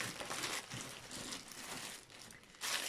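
Plastic packaging crinkles and rustles in bursts while a Temu parcel is opened with scissors, loud and close, with a brief louder crackle near the end and no talking.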